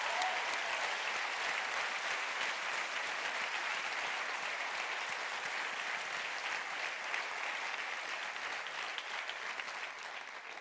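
Sustained audience applause fills a Christian camp meeting hall at Hjallerup Bibelcamping, a steady dense clatter of many hands holding at an even loudness for the whole stretch, with no talking over it.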